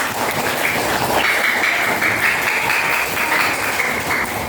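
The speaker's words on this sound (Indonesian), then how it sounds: "bisa tepuk tangan" Steady, loud applause from a classroom group, dense and continuous throughout with no talking over it.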